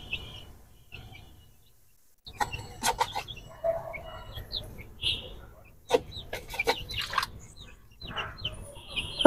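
Two tiger chickens on a rooftop cluck and call in short irregular bursts, some louder and close, with gaps of near quiet between them.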